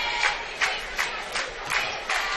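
Crowd murmur filling a high school basketball gym before a boys' game between Norwell and Bluffton, a steady distant hum with soft rhythmic swells every half second or so, no clear voice standing out.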